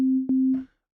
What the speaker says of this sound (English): the sinus waveform sounds like this.